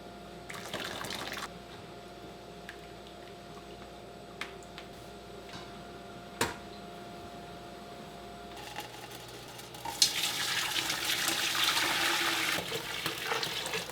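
Dyed wool yarn is rinsed under a sink tap. After a quiet stretch with a few small clicks and knocks, running water starts and pours steadily and fairly loudly through the last seconds.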